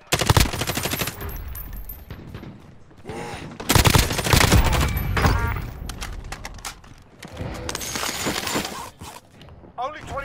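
Gunfire in Call of Duty: Warzone's Halloween mode, with bursts of automatic shots and loud booming blasts alternating across the clip, mixed with game effects and voices talking over the action.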